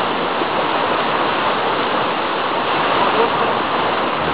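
Steady, dense rushing of a muddy river in Pahang, Malaysia, loud and unbroken throughout, with no voices.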